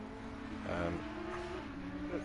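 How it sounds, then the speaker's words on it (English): A Ferrari race car engine drones in a racing video game, a steady mid-pitched whine that rises and shifts slightly as it passes, heard at a moderate distance with low-level ambient noise. "Here comes David in a Ferrari."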